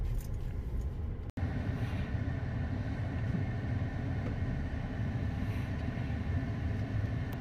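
A car on the move during a driving lesson, a steady low rumble of engine and road noise heard from inside the cabin, with one brief dropout.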